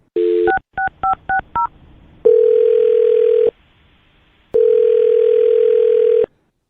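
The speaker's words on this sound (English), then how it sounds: "I'm going to dial her phone number right now" A telephone number is dialed: a short burst of touch-tone beeps, then two long ringback tones separated by silence, loud and clear with no talk over them.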